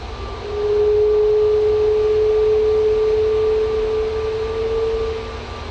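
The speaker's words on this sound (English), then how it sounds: "Ryanair 737-800 coming in from Fate Brussels" A Ryanair Boeing 737-800 arriving at Manchester Airport from Brussels: a loud, steady jet drone with a sustained whining tone that swells in, holds for several seconds and eases slightly.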